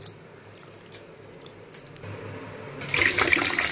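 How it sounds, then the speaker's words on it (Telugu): Tamarind pulp squeezed by hand in water to draw out its juice gives soft, wet squelching and splashing, sparse at first, then a louder, busier burst of liquid sloshing near the end. "ఇప్పుడు చింతపండు పిసికేసుకుంటున్నాను బాగాను పిసికేసుకుని రసం కూడా తీసేసుకుంటాను"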